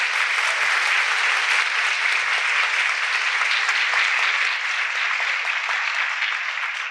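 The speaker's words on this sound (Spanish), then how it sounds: "un aplauso para nuestro Señor Jesús, caudillo y consumador de nuestra fe" Steady, dense applause from a seated audience at a Catholic charity course, continuous and even for several seconds with no voices over it.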